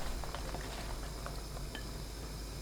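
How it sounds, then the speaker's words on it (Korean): Eggplant slices stir-frying in three tablespoons of cooking oil over high heat in a pan, producing a constant dense hiss and bubbling sizzle, fairly quiet and unbroken, with no voices. "식용유 3큰술 넣고 센 불로 볶습니다."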